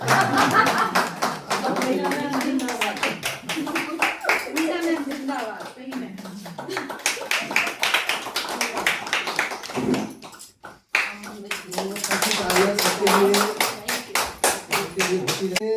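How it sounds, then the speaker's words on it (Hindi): People at a staff meeting clap continuously in a dense, steady patter of many hands, close and loud, with voices and light laughter mixed in and a brief lull near the middle before clapping resumes. "जब तक मीना मैम खड़ी, जब तक तालियां मारते रहो।"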